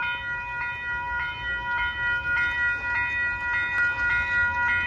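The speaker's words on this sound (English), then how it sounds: "Oh, here comes a train." At Valhalla Station in Valhalla, New York, a railroad crossing signal rings with steady, evenly spaced metallic chimes as a train approaches, loud and sustained over a low rumble.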